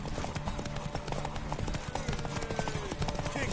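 Hooves of a horse strike in rapid, dense clip-clops, loud and close, with a murky wash of voices and other noise beneath.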